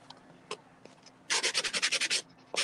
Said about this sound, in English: I probably need to sand that one down.